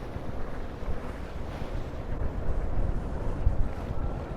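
Continuous wind buffeting and rushing sea swell surround a sailboat out on the English Channel, a dense, steady roar with no voices.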